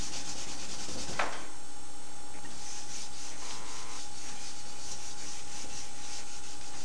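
A black crayon rubs across paper while a caricature is drawn, giving a soft, continuous scratchy rasp with a sharper stroke near the start, with no talking.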